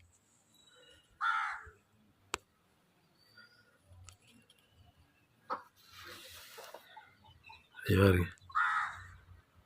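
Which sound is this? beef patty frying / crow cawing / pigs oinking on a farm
crow cawing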